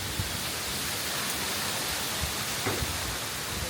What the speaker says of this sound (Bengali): কালবৈশাখী ঝড় হচ্ছে,